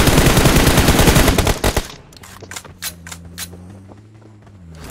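Rapid automatic gunfire rattles loud and dense from BGMI gameplay, then breaks into scattered single shots over a low steady hum.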